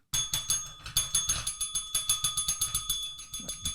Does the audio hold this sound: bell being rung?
yes